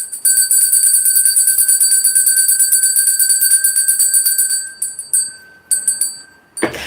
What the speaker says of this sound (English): Just let me ring the bell.